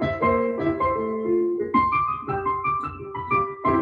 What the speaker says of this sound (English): That's classic Scott Joplin ragtime